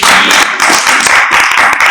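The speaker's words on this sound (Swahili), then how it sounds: "Hebu wapigeni makofi na vigelegele." A church congregation bursts into clapping and ululation during a sermon, a dense, loud burst of hand claps and high trilling voices filling the room.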